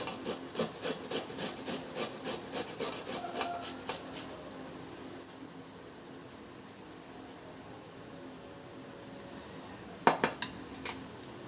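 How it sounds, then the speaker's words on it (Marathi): Beetroot is rubbed over a hand grater in a steady run of about a dozen rhythmic rasping strokes, then near-quiet, followed by a brief clatter of the grater near the end. "जे बीटरूट आपल्याला मिळतं ना ते लागणार आहे तर हे जरासं किसून घ्या"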